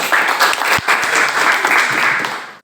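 Classroom students applauding together, a dense burst of clapping that holds steady for over two seconds and then trails off, loud and close.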